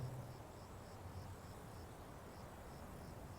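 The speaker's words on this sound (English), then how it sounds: "The wind. And, of course, crickets." Faint crickets chirp in a steady, evenly spaced pulse over a soft, constant background hiss, with no voices.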